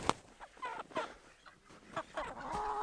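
Chickens cluck softly in short, scattered bursts at close range, with a faint rustle between calls.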